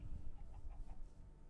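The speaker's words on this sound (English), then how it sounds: "Now where'd that chicken go?" A chicken in the Minecraft video game clucks in a quick series of short, pitched clucks, moderately loud and heard alone without talk.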